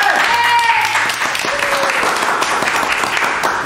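Studio audience applause greets a guest band on an Indonesian music talk show, a steady dense wash of clapping lasting a few seconds with talk running under it.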